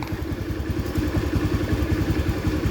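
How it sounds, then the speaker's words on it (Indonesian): A Honda Beat FI scooter engine runs just after starting, a loud, close, steady rhythmic putter with mechanical clatter, continuing evenly throughout. "Motornya hidup."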